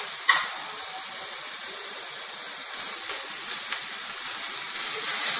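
Vegetables for foxtail millet fried rice sautéing in a pan, a steady close hiss and sizzle with a brief clatter at the start and soft stirring noises throughout.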